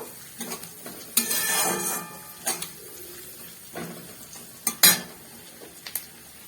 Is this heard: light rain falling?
no